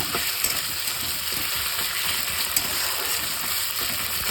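Chopped onions with ginger-garlic paste, cumin paste and pepper frying in a pan, giving a steady, close hiss and crackle with faint scraping clicks throughout, no talking.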